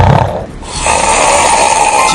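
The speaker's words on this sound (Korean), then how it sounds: "못 견디기 힘든 코골이." After a short breath, someone lets out a loud, sustained snore right up close, harsh and nasal, continuing to the end with no voices.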